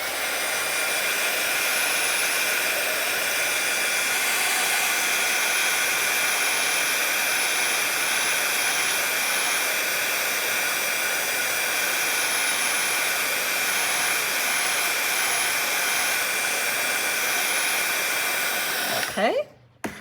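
A hair dryer blows steadily on a watercolor painting of a loose red floral, a loud, continuous close whoosh that holds for nearly twenty seconds before cutting off abruptly at the end.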